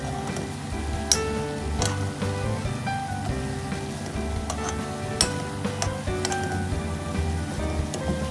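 Scrambled eggs with tomatoes frying in a pan for a Chinese home dish, a steady soft sizzle running throughout with occasional sharp clicks and stirring taps, fairly quiet and without talk.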